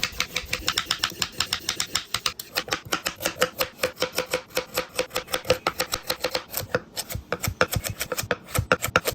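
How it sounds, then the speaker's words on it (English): Quick, steady knife chops on a cutting board as carrots, green beans and onion are cut, a close, rapid rhythmic tapping running throughout with no talking. "We're going to get these chopped up and set to the side"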